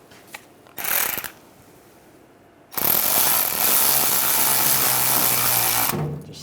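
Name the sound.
tightening a hose clamp on a fuel filler neck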